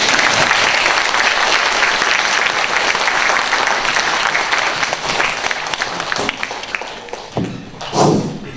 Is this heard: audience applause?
yes